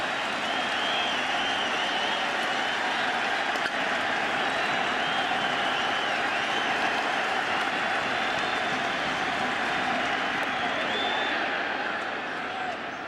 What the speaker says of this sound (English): the crowd showed up